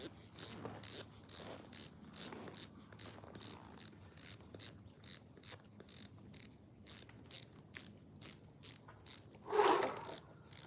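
A snowboard binding strap ratchets tight in a long run of quick, regular mechanical clicks, close and crisp, with a slightly louder burst near the end.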